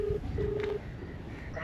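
Telephone dialing tones, two short steady beeps followed by a third a moment later, heard over rumbling background noise outdoors in an empty area.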